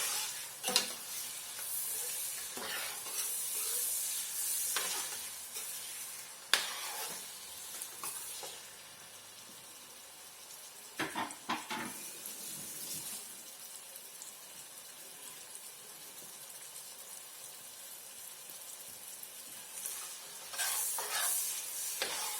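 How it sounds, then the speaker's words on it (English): A spoon stirs efo riro stew with kale, spinach and onions frying in a pot, making soft scraping strokes over a steady low sizzle, with brief louder clatters now and then. "So I'll keep stirring because I don't want it to get burnt."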